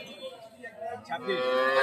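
A cow with her young calf moos in a long, drawn-out call that swells louder toward the end, with faint background noise and no clear talking.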